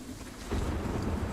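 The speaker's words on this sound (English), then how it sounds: "We have a dynamic weather system, so now it's raining." Steady rain hisses across a broad band in Sniper Ghost Warrior 3's dynamic weather, thickening halfway through with a low rumble, continuous and close with no voices.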